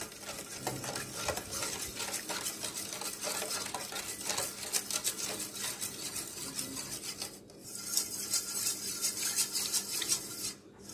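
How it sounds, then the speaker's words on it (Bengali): Sugar, salt and yeast being stirred together for pizza dough, a steady scraping and clinking of a spoon against a bowl that continues close and fairly loud throughout, with brief pauses near the end. "সবকিছু ভালো করে মিশিয়ে নিব।"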